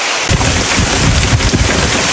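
Heavy rain pours down in a steady, loud roar with low rumbling thunder underneath and gusts buffeting the microphone, close and continuous with no voices.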